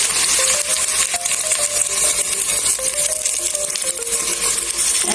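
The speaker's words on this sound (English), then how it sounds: "then you dump in the red onions, and goes curry leaves" Red onions and curry leaves dropped into hot ghee with cumin and fenugreek sizzle loudly up close, with a spoon clinking and scraping against the pot as they are stirred.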